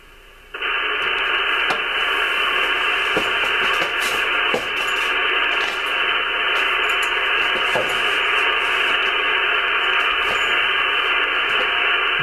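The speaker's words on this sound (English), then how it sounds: "We're getting a bunch of noise." An RTL-SDR radio hooked to a plain wire antenna hisses with steady loud static, starting abruptly and continuing unbroken with faint ticks and crackles underneath.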